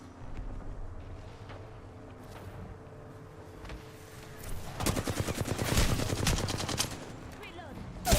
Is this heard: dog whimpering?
no